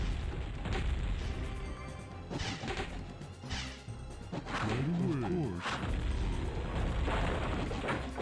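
Cannon tower fire and explosions in WarCraft 2: Beyond the Dark Portal, a dense run of crashes, booms and thwacks against constant battle noise, with a voice talking over them.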